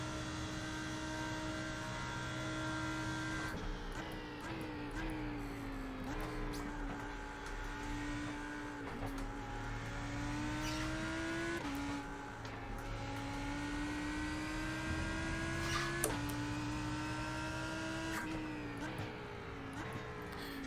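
Racing car engines in an iRacing sprint at Spa, a Lamborghini among them, drone steadily at high revs through slipstream, with pitch slowly climbing and dropping at gear changes, fairly faint and continuous with no talk.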